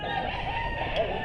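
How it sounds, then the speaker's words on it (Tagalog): Chickens and roosters on a game farm crow loudly and close by in a brief, steady burst, with several birds overlapping. "So isa itong game farm. Dami po nilang manok."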